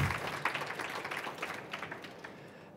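Audience applause at an art talk, a dense wash of many hands clapping that slowly tapers off over a few seconds, with no voices over it.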